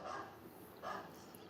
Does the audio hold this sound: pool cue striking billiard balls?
no